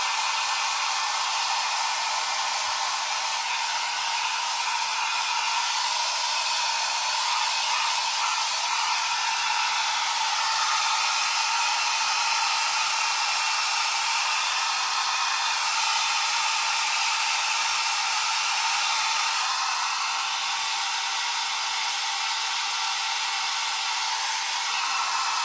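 A hair dryer blows steadily on rice paper wrapped around a bottle, a constant close airy roar holding level and unbroken for the whole stretch, with no voices.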